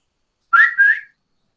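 A single short two-note lip whistle, clear and close, rising then holding, alone against silence.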